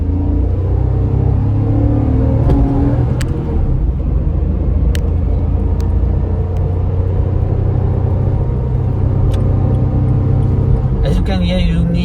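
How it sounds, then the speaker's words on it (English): A 2017 Renault Kwid city car's small engine drones and strains while revving uphill with the air conditioning running, a continuous loud rumble inside the cabin with a few brief clicks. "Let's accelerate here with aircon on."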